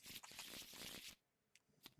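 A Marvel Champions card deck being shuffled: a second of dense, crisp riffling close up, then quiet with a few soft taps and flicks of the cards.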